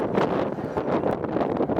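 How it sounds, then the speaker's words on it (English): Wind gusts buffet the microphone on a breezy spring night at an outdoor baseball field, a loud rushing roar that swells and dips with no talking. "Windy night here."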